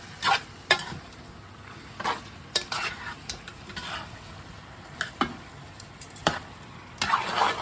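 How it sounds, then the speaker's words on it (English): Sliced tomatoes simmer and sauté in a palm oil stew, making a soft sizzle under repeated scraping strokes of a utensil against the pot. The stirring comes in irregular bursts, close and moderately quiet, with no talking. "So now we're gonna add the sliced tomatoes and let that simmer and saute."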